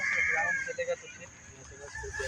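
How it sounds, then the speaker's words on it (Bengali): Chickens at a rural weekly market in Balarampur, clucking and calling in short bursts amid a busy crowd murmur, fairly close and moderately loud. "দেখুন খুব সুন্দর মুরগ আছে এখানে একটা"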